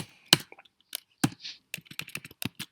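Code is typed on a computer keyboard in irregular bursts of close, crisp key clicks with short pauses between them, and there is no talking.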